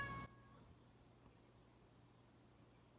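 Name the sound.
cat meowing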